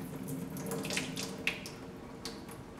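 Tap water running into a kitchen sink while mung beans are rinsed, a soft steady stream with a few light splashes and clinks, fairly quiet and close, with no talk.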